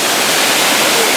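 River water pours hard over a weir in Würzburg, Germany, making a loud, dense, unbroken rush of broadband roar close by.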